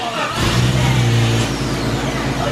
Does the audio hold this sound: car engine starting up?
yes